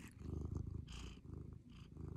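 Close, steady purring from a cat, a rhythmic low rumble pulsing with each breath and heard alone, with faint sniffing in between.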